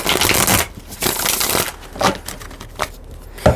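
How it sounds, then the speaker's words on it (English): Cards are shuffled in several quick riffling bursts, crisp papery flutters separated by brief pauses and a few soft taps. "let me just shuffle the cards"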